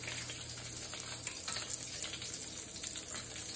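Pork sirloin fries in butter in a pan, giving a steady, fairly quiet sizzle with small scattered pops throughout.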